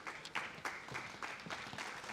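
Audience applause at a valedictory ceremony for a mushroom summit in India, a steady patter of clapping with small rhythmic swells, heard from within the hall at moderate level.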